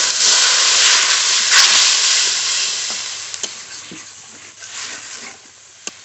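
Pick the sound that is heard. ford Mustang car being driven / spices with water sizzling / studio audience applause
spices with water sizzling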